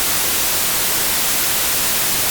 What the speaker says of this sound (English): It's literally just white noise.